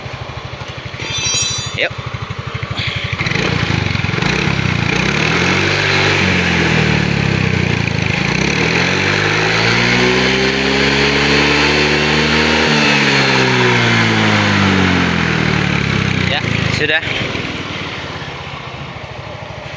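A Yamaha Mio 125 scooter with starting trouble, a weak battery and smoky running idles and revs up steadily at close range, rising and falling in pitch over several seconds, with brief talk near the start.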